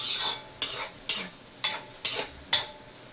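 Cubed meat for Bicol Express being stirred in a hot pan, six sharp scraping strokes at a steady rhythm about half a second apart, with faint sizzling between them, close and moderately loud.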